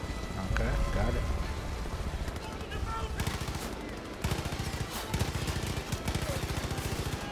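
Rapid automatic gunfire in the video game Far Cry 5, a dense stream of close, loud shots in repeated bursts with brief pauses, over game background noise.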